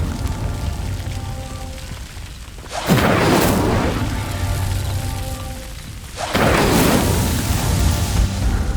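Incendio fire spell lighting pyres in Hogwarts Legacy: two loud whooshing bursts of flame about three seconds apart, each flaring up and then settling into a crackling roar.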